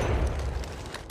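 A low rumbling boom from Apex Legends Mobile gunfire and explosions, ending in a sudden, loud, sharp blast.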